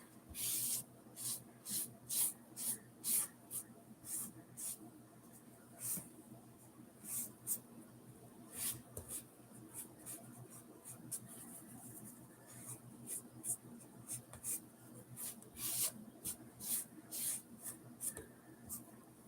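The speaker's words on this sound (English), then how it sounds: "get your lint-free cloth and lightly go over this and rub off any excess" A lint-free cloth rubs clear wax over a chalk-painted surface. It makes soft, close swishing strokes in an uneven rhythm, with pauses between bursts, and no voices.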